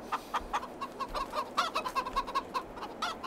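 Chickens in the Farming Simulator 22 video game cluck in a quick, steady string of short repeated calls, close and clear, with no talking over them.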